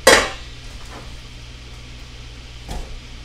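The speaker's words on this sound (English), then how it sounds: "We're going to go ahead and throw the onions into the pan." Chopped onions land in a hot pan with one sharp clattering burst at the start, then fade into a quiet low kitchen hum with a small knock near the end.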